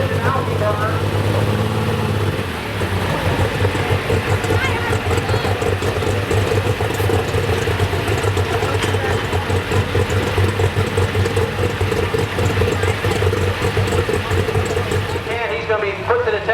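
Alcohol-burning super stock pulling tractor idling at a tractor pull, a loud steady deep engine drone holding for the whole stretch while an announcer talks over the public address.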